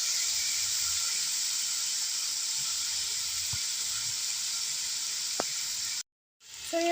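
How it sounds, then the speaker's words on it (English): Steady loud sizzling of brown stew mutton frying in a pot, a continuous bright hiss with a couple of small pops, cutting out abruptly near the end. "My brown stew mutton in the pot. Frying"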